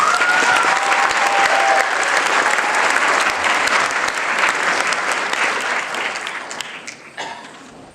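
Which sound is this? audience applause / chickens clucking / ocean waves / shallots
audience applause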